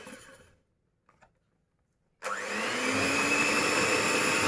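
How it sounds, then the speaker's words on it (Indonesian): An electric mixer starts up on low speed while making ice cream, a sudden steady whirring hum that switches on midway after near silence with a few faint clicks. "Dari kecepatan yang rendah dulu ya."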